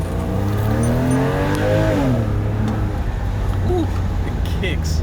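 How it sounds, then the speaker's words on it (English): A 2001 Porsche 911 Carrera 4 (996) engine revs hard on a downshift, its pitch climbing to a peak and then dropping as the gear changes, loud and close under steady road noise. "The downshifting."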